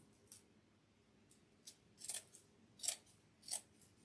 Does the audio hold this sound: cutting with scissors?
yes